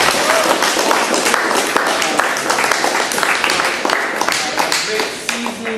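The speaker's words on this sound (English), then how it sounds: "let's do a round of applause for our sponsors." Applause from a small group at a season-closing esports club event, a dense patter of claps mixed with voices and cheering, loud and close throughout.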